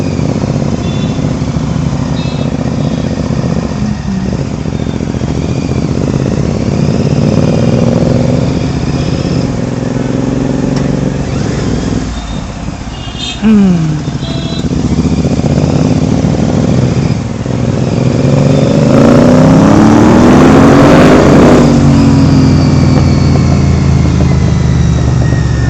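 A Royal Enfield GT650 motorcycle with a stock air filter rides through traffic, its twin-cylinder engine droning loudly and steadily throughout, with revs rising and falling and a surge of throttle near the end.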